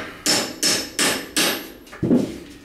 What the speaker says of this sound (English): So I just hammer it out a little bit.